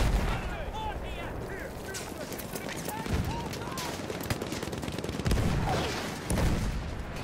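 Battlefield 1 combat during a landship hunt: dense, rapid machine-gun and rifle fire crackles in overlapping bursts, with louder nearby shots punching through the steady din.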